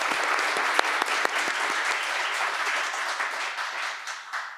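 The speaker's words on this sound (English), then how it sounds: "big round of applause for" An audience at a robotics debate applauds the debaters, a full sustained round of many hands clapping with a few sharper individual claps near the start, gradually easing toward the end.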